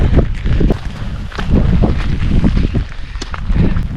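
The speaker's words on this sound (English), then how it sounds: "It's raining, windy" Wind and rain batter a hiker on a rough-weather trail, gusty buffeting on the microphone with scattered patters and thumps, loud and continuous.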